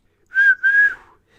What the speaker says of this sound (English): that's the best I can whistle